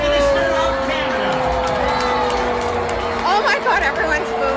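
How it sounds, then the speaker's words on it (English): A large crowd in Calgary boos Prime Minister Mark Carney, a loud, sustained wash of jeers and chatter that swells briefly near the end. "Oh my God, everyone's booing."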